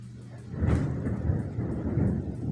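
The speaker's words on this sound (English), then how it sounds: "It's thundering out." A low rumble of distant thunder during rain swells and rolls on without a sharp crack, with faint background noise.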